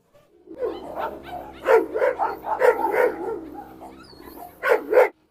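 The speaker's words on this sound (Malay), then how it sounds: "Mereka sedang menggeram." Two Rottweilers snarl and bark at each other in a tense standoff, a series of close, rough growling bursts rising and falling over about five seconds, with the loudest snaps near the middle and end.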